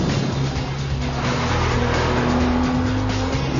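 Lotus Exige 240R sports car driven hard around a race track, its engine roaring loud and steady throughout with a continuous drone, no talking over it.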